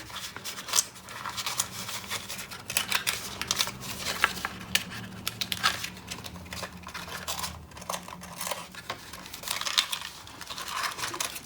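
A paper card for a homemade pop-up Christmas card being folded and creased by hand, steady close rustling, rubbing and crinkling scrapes that come in irregular bursts throughout, with no talking.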